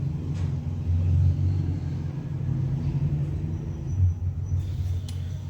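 A 2.2 kW, 1400 rpm electric motor runs at 50 Hz on an Invent VFD inverter, a steady low hum and rumble that sits close and moderately loud, with no talking.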